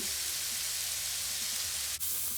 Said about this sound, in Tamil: எல்லாத்தையும் மடிவாக கிளறி கொஞ்சம் வதங்க மட்டும் விட வேணும்.